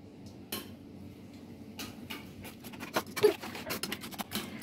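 A utensil beats eggs with salt, ginger and garlic in a bowl for egg cutlet batter, giving irregular clinks and scrapes that build in pace toward the end, close and moderately loud with no talk.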